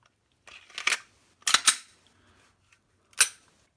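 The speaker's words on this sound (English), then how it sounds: "I'm going to go ahead and reassemble my gun here." A Glock 19 pistol fitted with a Hogue rubber grip is reassembled, giving three sharp, close mechanical clicks and snaps: a quick double click, a louder snap, then one last click, with no talking.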